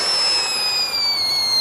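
An expensive firecracker on New Year's Eve fizzes with a loud, steady hiss and high, sustained whistling tones, with no sharp bang.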